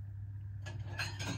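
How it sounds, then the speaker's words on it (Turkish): Clattering of pots and dishes being unloaded from a dishwasher, a few clinks and knocks in quick succession over a steady low hum. "bulaşık makinesini de boşaltayım"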